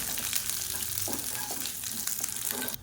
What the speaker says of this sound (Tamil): அந்த வரமிளகா நல்லா அப்படியே வறுபடணும்.